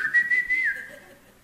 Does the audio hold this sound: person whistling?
yes